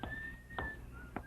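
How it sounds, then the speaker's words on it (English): A man in a radio drama whistles through his gold front teeth, a faint thin tone held steady under soft background, punctuated by a few short breathy bursts. "a pair of gold teeth front and center that he whistled through as he passed"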